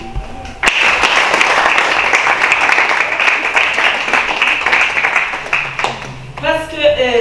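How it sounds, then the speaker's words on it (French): A hall audience applauds students honored as the top pupils of their schools, with dense, sustained clapping for about six seconds before a voice starts speaking at the end. "J'aimerais que toute la salle acclame les élèves qui sont ici."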